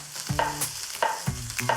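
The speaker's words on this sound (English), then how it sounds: "that's the sound you wanna hear when you add your steak to the pan. If you don't hear that sizzle, the pan just wasn't hot enough" Steak searing in a hot pan gives a continuous crackling sizzle, punctuated by several clattering scrapes and knocks in a loose rhythm, heard up close with no talking.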